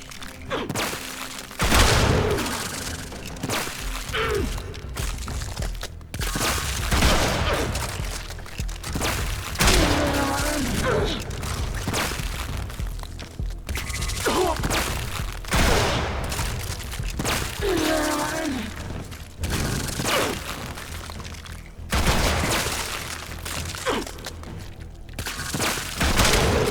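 Gunfire aimed at level 95 enemies in a shooter game, a steady run of booming, crackling shots and impacts that fill the whole stretch with brief dips between bursts.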